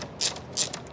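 A ratchet clicks in two quick bursts while bolts are tightened during installation of a front trunk in a Hyundai Ioniq Electric, close and crisp with no voices.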